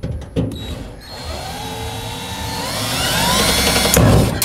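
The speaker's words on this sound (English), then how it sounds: "It helps if you drill in straight, which I didn't do." A power drill with a small bit bores into the metal body of a rotten old 1956 VW Beetle. The motor whines and its pitch climbs under load, with clicks and a sharp knock near the end, and no voices.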